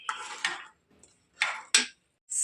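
Dried metal utensils being picked up and put away, a few sharp clinks and clatters in separate bursts with short quiet gaps, close by and moderately loud, with no talking.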